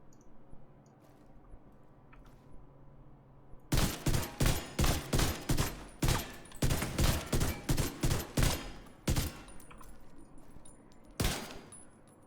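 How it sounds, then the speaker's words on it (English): A pistol fires repeatedly in The Division 2, a shooter game, as a loud, quick series of sharp shots after a few quiet seconds, with one last shot following a brief gap. "I can just hit it with my pistol"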